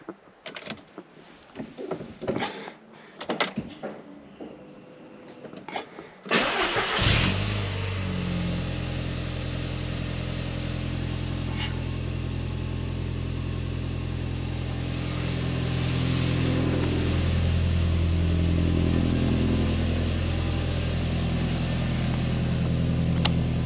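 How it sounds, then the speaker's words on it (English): Clicks and rattles, then an Audi TT Mk1 engine turns over, catches and settles into a steady, even idle that continues to the end. "she's idling absolutely spot on now"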